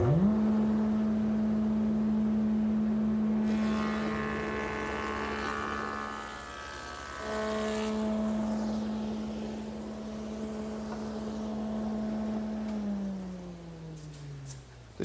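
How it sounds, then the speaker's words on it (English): A woodworking router cuts a bead along the edges of a trestle table's wooden stretcher, a steady motor whine over two long passes that winds down in pitch at the end. "One last beading operation, which is to our stretcher, and I'll do all 4 edges of that."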